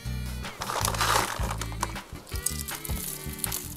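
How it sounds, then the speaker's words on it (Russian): Dry grain poured out for pet hamsters, a rattling, pattering spill of small kernels in irregular bursts over roughly four seconds, close and moderately loud, with low thumps underneath. "Звук насыпающегося зерна."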